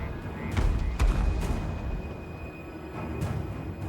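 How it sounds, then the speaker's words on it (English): Mortar artillery in Total War Warhammer 3 fires with several dull, booming thuds at irregular intervals over a rumbling battlefield din, moderately distant. "My mortar's basically just wasting ammunition."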